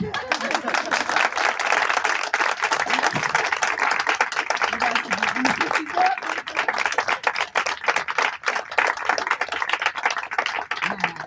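An audience claps steadily, a close, busy patter of many hands that holds at a constant level for over ten seconds, with a few voices faintly mixed in.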